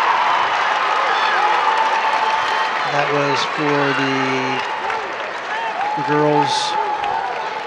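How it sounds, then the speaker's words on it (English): Crowd noise and scattered cheering fill an arena during the finals of the Ohio state high school wrestling tournament, a steady roar in the background under a close announcer voice. "you hear a little bit of cheering in the background"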